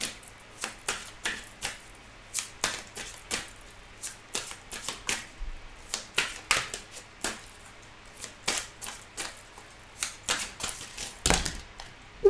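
A deck of angel oracle cards being shuffled by hand, a steady series of crisp riffling snaps and clicks repeating every second or so, close and distinct with no talk.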